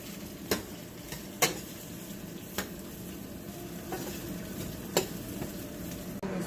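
Spice paste with tamarind fries in oil in a pan, a quiet steady sizzle broken by several sharp clinks of a spoon stirring against the pan, close by.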